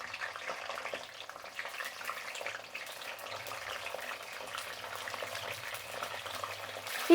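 Eggplants frying in hot oil in a pan, a low steady sizzle with a crackling hiss held at an even level throughout, fairly quiet and close.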